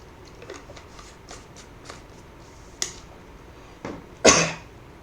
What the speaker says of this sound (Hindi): थोड़ा खांसी काफ़ी हो रहा है।